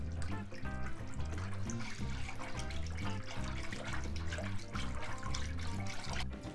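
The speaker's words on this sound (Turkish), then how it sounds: "Kaynayana kadar, ağırlaşana kadar çırpmaya devam ediyoruz" A milk mixture is whisked in a pot, with steady wet swishing and sloshing running continuously for several seconds, close by and moderately loud with no talk over it.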